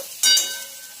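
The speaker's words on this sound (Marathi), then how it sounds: "जिरं चांगलं फ्राय झालेलं आहे आपण घालूया आलं लसूणची पेस्ट" Ginger-garlic paste drops into hot oil with cumin seeds and a bay leaf, a sudden loud burst of sizzling that fades quickly into a quieter, steady crackle.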